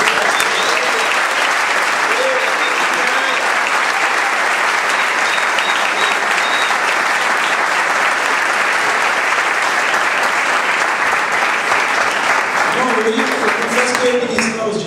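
A church congregation bursts into sustained, dense applause during a service, loud and continuous for the whole stretch, with some cheering voices mixed in toward the end.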